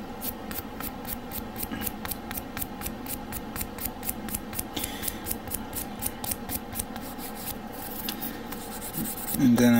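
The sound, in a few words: sanding glued Gundam model kit parts with grit sandpaper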